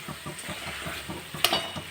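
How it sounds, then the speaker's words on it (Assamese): Local chicken being stirred with salt in a hot pan, a close sizzle with rhythmic scraping strokes about four per second and a brief sharper clink near the end, no talk. "ভালদৰে লৰাই দিম।"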